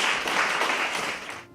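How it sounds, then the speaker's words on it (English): Audience applause fills a small coffeehouse during a storytelling performance, a dense steady wash of many clapping hands that stops abruptly at the end. "and you can clap"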